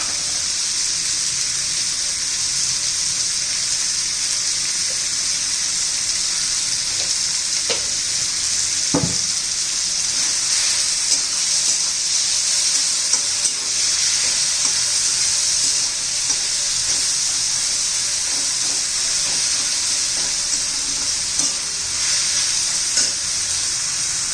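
Chopped tomato and salt fry in a pan for a dry green capsicum dish, a constant hissing sizzle running throughout with occasional spoon scrapes and clinks against the pan, close and steady with no voices.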